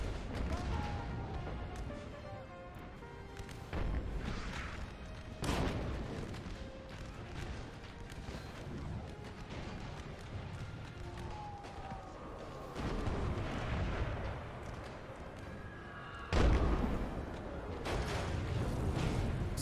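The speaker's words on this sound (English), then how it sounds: "Artillery barrage is still coming in thick" Rolling artillery barrage in an American Civil War battle video game, with repeated booms and cannon blasts layered over a continuous battlefield din, and a louder nearby blast near the end.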